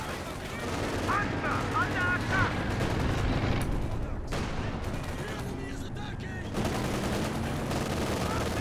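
Continuous machine gun fire and scattered explosions fill a World War II strategy game match, dense and loud throughout with a few brief lulls, with no speech.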